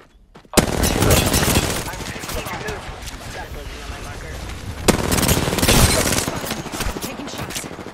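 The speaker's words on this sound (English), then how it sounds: "Opening fire. Taking fire." Loud automatic gunfire in Apex Legends: a sustained rapid burst starting sharply near the beginning, then a second burst of rattling shots after a short lull, close and dense, with faint voice lines underneath.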